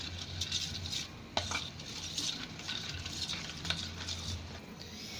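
Broast masala, chaat masala, salt and pepper powder are mixed together for roast chicken, a steady close rustling and scraping with a few light clinks of a utensil against the bowl, no voices.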